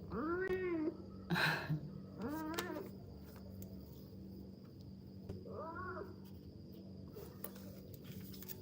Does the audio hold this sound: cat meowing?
yes